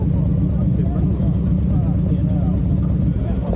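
Loud car exhaust droning steadily and close up, a deep continuous rumble that fills the whole stretch without letup.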